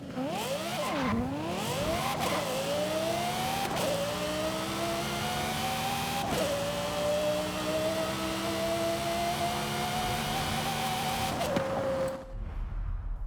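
A drag car engine in the video game Forza Horizon 5 revs loud and close, rising through sharp pitch sweeps and gear shifts, then holds a long, steady high whine before cutting off abruptly.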